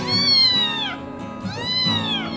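Several cats meow loudly and close by, two long drawn-out calls in quick succession, indoors where rescued strays are being fed.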